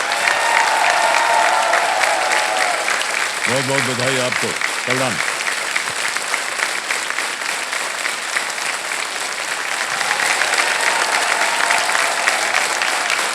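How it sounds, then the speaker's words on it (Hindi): A quiz-show studio audience applauds a contestant, a loud steady clatter of clapping that continues throughout while someone briefly speaks over it. "तालियां बजती रहें इनके लिए।"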